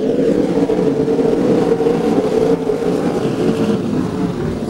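Sprint cars in a Eureka Sprint Car Series heat race, several engines droning loud and steady as a pack, the pitch shifting slightly as they pass, no talk.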